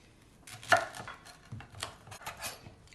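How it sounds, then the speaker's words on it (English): A knife chops soft plantain on a board in a home kitchen: a few quiet, irregular cuts and taps with light clatter, no voice. "I'm going to cut off the banana."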